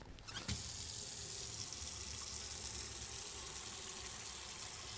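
Tap water runs steadily into a container at a morgue lab sink, a continuous close hiss and splash that begins with a short burst and holds at an even level throughout.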